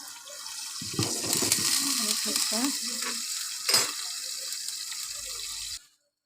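Oil heating in a pan for potato purée hisses with a steady close sizzle, rising at the start and swelling briefly midway before it stops abruptly near the end.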